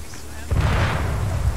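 A heavy cannon blast in Arma 3 booms out suddenly after a quiet half-second, with a deep, rumbling low end that rolls on and fades slowly.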